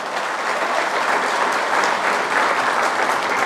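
Steady, dense applause from an audience at a town meeting with village headmen and community leaders in Nevşehir, filling the whole moment at an even, loud level with no voices.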